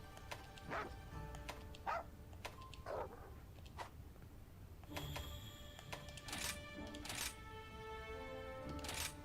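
Dogs in the Monster Hunter Rise video game bark in short, bright, repeated yaps, several distinct barks spaced irregularly over a steady background.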